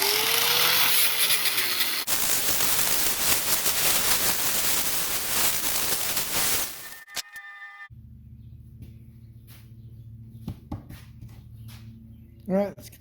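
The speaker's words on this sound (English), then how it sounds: "All right, gonna use a flapper wheel." A flap wheel grinds protruding screw tips flush, a harsh, loud, continuous abrasive roar lasting several seconds before cutting off, with someone talking before and after.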